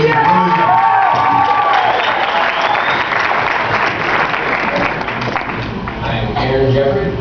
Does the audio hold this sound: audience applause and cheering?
yes